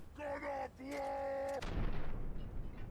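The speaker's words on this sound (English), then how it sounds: "Try a grenade." Grenade going off in a Fallout game: a tonal, groaning voice-like cry gives way to a deep thudding explosion with a rumbling tail, close and fairly loud.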